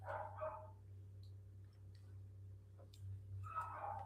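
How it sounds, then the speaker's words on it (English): A dog barks in two short bursts, one at the start and one near the end, somewhat distant over a low steady hum. "I do apologize if you hear any barking noises."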